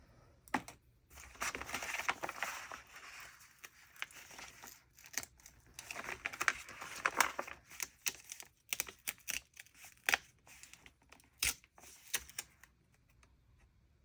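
Scissors cutting through paper pages while setting up a creative journal, a sequence of crisp snips and crinkling rustles in irregular bursts, close and fairly quiet, with paper handling between cuts.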